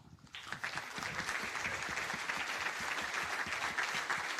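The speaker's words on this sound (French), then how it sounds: "On peut les applaudir déjà." An audience applauds after a conference talk on moving from Docker Compose to Kubernetes. The dense, steady clapping starts abruptly and holds at an even level throughout.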